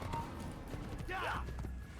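Horse hooves galloping in the Assassin's Creed video game, a steady rapid clatter at moderate loudness for two seconds with a voice over it.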